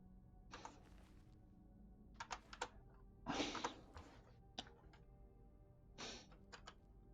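Cheap ten-dollar computer keyboard typed on in short clustered bursts of clicky keystrokes, close and moderately loud, separated by quiet gaps over low background hum.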